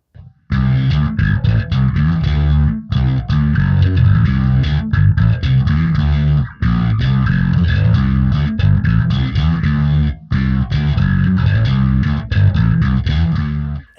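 Electric guitar through a modulation pedal placed in front of the amp, before the distortion, played alone as loud, thick distorted chords with a wavering chorus-like shimmer and brief gaps between phrases.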